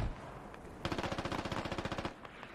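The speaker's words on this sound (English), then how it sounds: "They're just kind of shooting at each other from a distance." Distant automatic gunfire in the video game Squad: a rapid, evenly spaced burst of about twenty shots that runs for over a second after a quiet start, followed by a few scattered pops, with no speech.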